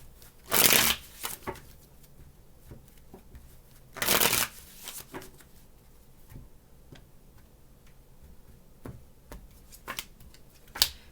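Tarot cards are shuffled up close in two quick riffling bursts a few seconds apart, with faint light ticks and card handling in the quiet between.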